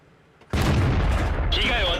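A tank cannon blast from the Japanese Tiger heavy tank in World of Tanks, one sudden loud boom after near quiet, with a rumbling tail and a whining, ringing aftertone.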